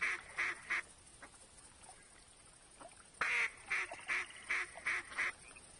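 Ducks quack in the hunting video game theHunter, first a short burst of three calls, a pause, then a longer run of quick repeated quacks, moderately loud against a faint background hiss.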